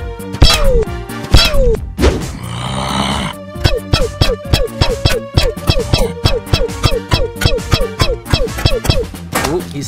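Mega Football Zombie firing bullets in a Plants vs Zombies mod game, with loud rapid repeated thumping shots in a steady rhythm after a short burst of noise, accompanied by game sound effects.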